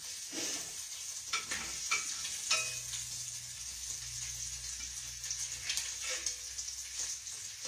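Bacon sizzles steadily in a pan for biscuit making, a constant bright hiss broken by occasional scraping and stirring clatters and a low hum, with no talking.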